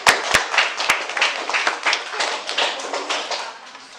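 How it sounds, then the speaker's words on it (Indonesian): A classroom applauds a student group with a few sharp taps, then a burst of dense clapping from many hands that builds and gradually thins out over several seconds, nearby and with no clear speech. "Berikan aplaus untuk kelompok Rani dan Dina"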